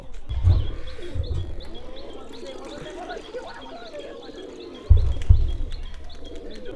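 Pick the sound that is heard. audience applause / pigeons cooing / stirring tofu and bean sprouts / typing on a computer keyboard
pigeons cooing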